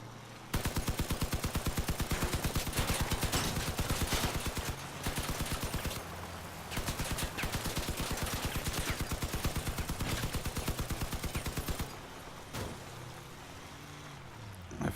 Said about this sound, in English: So now we have 4 machine guns.